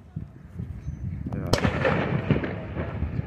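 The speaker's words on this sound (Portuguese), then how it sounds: "Os pessoal já tava jogando bomba aí" Firecrackers go off outdoors, one sharp bang in the middle and then rumbling pops. People talk and make noise throughout, and their voices partly mask the blasts.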